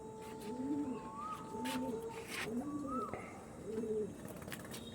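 Pigeons of a bred Andhra tournament line coo in a loft, several soft rolling calls repeating in a steady rhythm at close range, with faint background noise and no talk.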